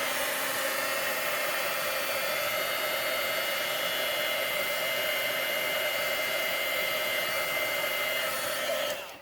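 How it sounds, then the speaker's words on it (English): A craft heat tool blows a steady, loud rushing stream of hot air to warm adhesive for stamping, running close and continuously for about nine seconds before cutting off. "We may need to use our heat tool."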